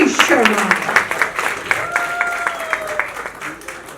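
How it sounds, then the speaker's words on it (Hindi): Audience applause at a Hindi film music launch event, scattered clapping from a crowd under an announcer's voice on a microphone, fairly loud and close, fading slightly as it continues. "जोरदार तालियां हो जाएं, none other than Ashish Sharma"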